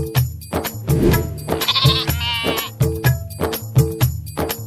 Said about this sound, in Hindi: लेकिन भेड़ें अपनी जगह पर खड़ी रहीं।